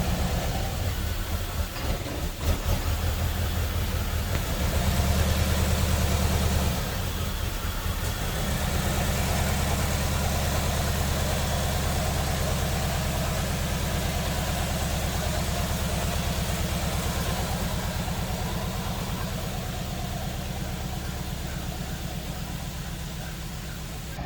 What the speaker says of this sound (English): She is sitting and idling and moving around under her own freaking power.